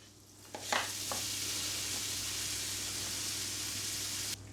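Ham sizzles as it fries in butter in a pan, with a bright, constant crackle after a few clattering stirs and knocks at the start.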